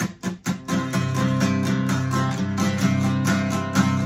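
Guitar strings rattle and buzz under loosely placed fretting fingers as notes are strummed, a dull, muffled, uneven twang with repeated strikes and no talking.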